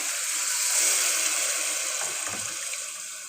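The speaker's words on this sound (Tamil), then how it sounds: "நான் ஃபுல்லாக இப்போ 4 டம்ளர் தண்ணி ஊற்றுறேன்" Water pours steadily into a pressure cooker over soaked rice and toor dal, a bright continuous gush that fades a little toward the end with no talking.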